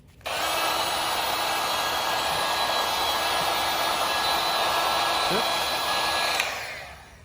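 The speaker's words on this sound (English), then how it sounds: "Now we're going to use our heat gun to shrink the shrink tubing over the terminal end and the cable." A heat gun blows hot air to shrink heat-shrink tubing over a cable terminal in a car alternator wiring upgrade, a loud steady broadband whoosh that starts abruptly, holds for about six seconds, then cuts off.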